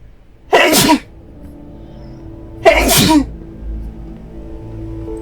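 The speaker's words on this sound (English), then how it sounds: "Oh, I'm gonna sneeze." Two loud, sharp sneezes burst out a couple of seconds apart, each close and explosive, with quiet game sounds in between.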